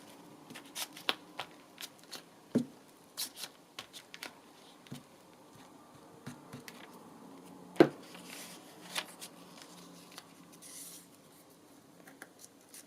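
Paper being folded by hand while making book page pockets as a craft project, heard as soft intermittent crinkles, creases and light taps spread across the stretch, fairly quiet and close, with a sharper crackle or two.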